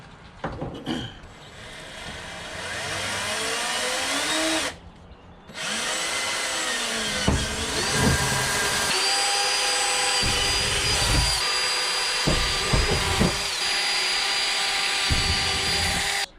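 Holes are drilled into a Jeep Gladiator bed with progressively larger bits, giving loud repeated whining drill bursts with pitch bends, brief pauses and bumps between runs, up close.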